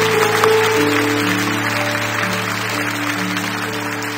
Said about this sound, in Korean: 우리 자녀들 한 번 더 박수로 축복합니다.